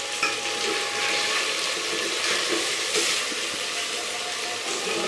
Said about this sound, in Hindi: इसको नीचे से भूनने देंगे।